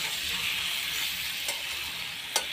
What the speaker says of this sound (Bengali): এবার চর্বিগুলো দিয়ে ভালো করে কষবো।